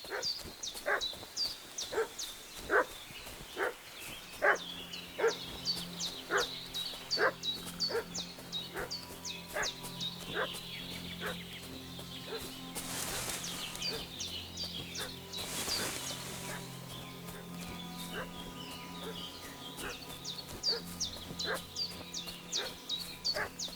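A dog barks repeatedly in Kingdom Come Deliverance 2, sharp evenly spaced barks at mid distance with birdsong and outdoor ambience around them, and a couple of louder bursts of noise midway.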